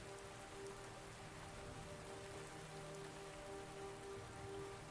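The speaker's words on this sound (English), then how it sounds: "I'm gonna put on some nice rain in the game." Steady rain from the video game Cauldron Chronicles, a constant even hiss of falling drops with a faint low hum beneath, holding level throughout without any voices.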